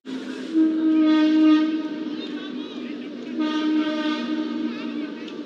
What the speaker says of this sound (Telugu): ఇక్కడ ట్రైన్ వెళ్తుందండి ఈ బ్రిడ్జ్ మీద ఎక్కువ గూడ్స్ ట్రైన్స్ వెళ్తూ ఉంటాయండి